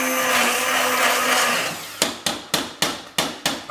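A kitchen blender purees curry sauce to a smooth liquid with a loud, steady whirring roar that cuts out, followed by six sharp, evenly spaced knocks.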